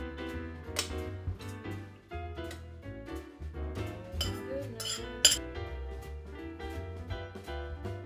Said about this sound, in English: I'm gonna just keep stirring this up until the butter and the vegan cheese all melts together.